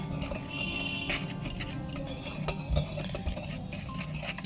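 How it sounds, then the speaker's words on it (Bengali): A spoon scrapes and swishes through dry spice powders, salt and Kashmiri chili powder in a bowl, with steady soft stirring strokes and occasional light clinks of metal against the bowl. "ড্রাই আইটেমগুলোকে আমি ভালো করে মিশিয়ে নিচ্ছি।"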